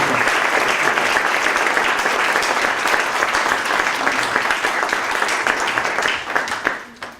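An audience at a fintech tour event in Toulouse applauds the organisers with sustained, dense clapping that fills the room, steady and loud before fading out at the end.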